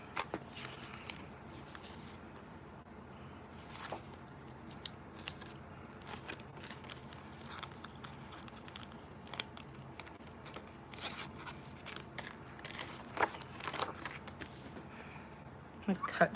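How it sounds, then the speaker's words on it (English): Scissors snip through card paper while trimming a Halloween card, giving a series of small, close, irregular cuts and paper rustles with quiet handling noise between. "I'm gonna cut just a little, like 1/8 of an inch off of there."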